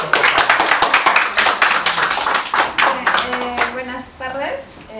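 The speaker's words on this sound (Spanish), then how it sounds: "Un aplauso." A small audience in a classroom gathering claps in a quick, uneven burst of distinct slaps that thins out, before a speaker's voice begins near the end.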